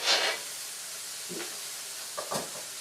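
Cheesesteak meat sizzles on a hot griddle with warmed onions and mushrooms, a steady frying hiss with a burst at the start and a few scrapes and taps.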